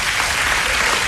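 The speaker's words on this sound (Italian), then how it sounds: "ti facciamo un grande applauso" A studio audience on an Italian radio show gives a big, dense round of applause for a departing guest named Mike, loud and continuous with no talking.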